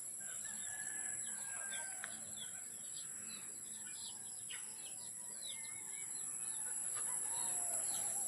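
Chickens clucking with an occasional distant crow at dusk on a farm, set against steady insect drone and scattered bird chirps in an open outdoor evening.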